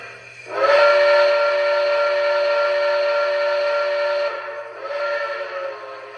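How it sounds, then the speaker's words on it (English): An MTH model of the CNJ 777 Camelback steam locomotive sounds its whistle in one long sustained chord-like blast for several seconds, then a shorter second blast, close and loud. "And here's our whistle, just pressing the whistle button."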